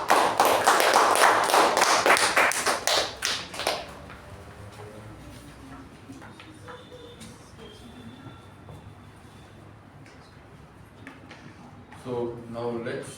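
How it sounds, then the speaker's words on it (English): A burst of clapping at a Toastmasters club meeting, dense and fairly loud for a few seconds, then thinning out into a quiet background before a voice begins speaking at the end. "Let's have a huge round of applause for it."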